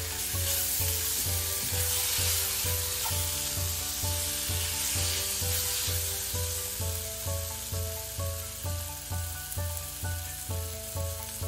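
Tomato and salt sizzle steadily in a hot pan for a roti soup, a continuous close frying hiss with no voices, while a soft rhythmic music beat runs underneath throughout.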